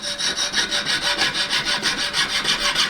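A fine saw cuts through metal for a hinged hoop earring, with rapid, even rasping back-and-forth strokes close by and a steady rhythm, no voices.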